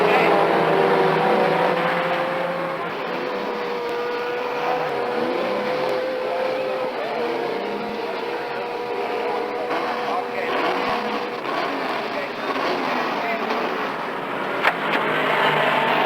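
A Spitfire race car engine revs hard down the back straight of a racing circuit at around 8,200 RPM, a steady, loud, buzzing drone that holds for the whole stretch.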